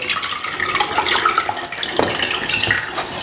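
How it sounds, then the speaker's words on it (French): Water poured into freshly pressed ginger juice to dilute it, a steady splashing pour running close and fairly loud for a few seconds with no talking. "Tu peux mettre de l'eau."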